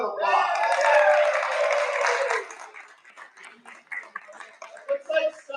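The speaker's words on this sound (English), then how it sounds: "Let's give her a round of applause." Audience applause at a live book event in San Francisco, a loud burst of clapping and cheering for about two and a half seconds that fades out, followed by scattered talking.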